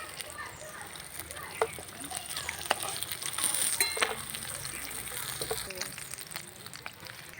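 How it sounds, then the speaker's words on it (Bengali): Pangas fish pieces fry in hot oil in a kadai, giving a steady, close sizzle with occasional sharp spatters and clicks of stirring. "বাদ বাকি মাছগুলো একইভাবে আমি ভেজে নেব।"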